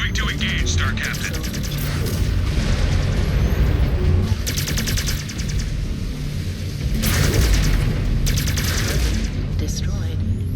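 Mech combat in MechWarrior 5: Clans, Ghost Bear campaign: loud sustained rapid weapon fire and booming explosions rolling in two heavy waves over constant low machinery rumble, with game voice callouts.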